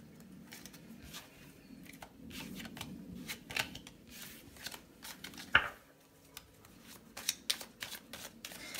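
Tarot cards drawn and handled from a deck during a card reading: soft papery shuffling and sliding with intermittent sharp snaps and flicks, close up and without talk.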